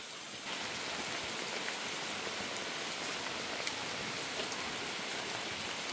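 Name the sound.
rain falling during typhoon Kristine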